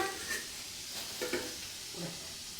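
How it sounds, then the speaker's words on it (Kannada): Papad (pappadam) dropped into hot oil, giving a steady broad sizzle and hiss with small bubbling bursts, moderately close and with no voices over it. "ಹಪ್ಪಳ ಎಣ್ಣೆಗೆ ಹಾಕ್ತವ್ರೆ, ಹಪ್ಪಳ ಸುಡುತ್ತೆ"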